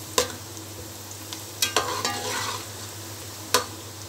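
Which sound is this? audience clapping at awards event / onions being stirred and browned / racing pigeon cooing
onions being stirred and browned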